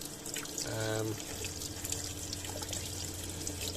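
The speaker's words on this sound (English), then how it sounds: "That's hot, water's coming out." Water runs from a shower tap in a camper van, a steady hiss and splash under someone talking, with a brief tonal hum early on.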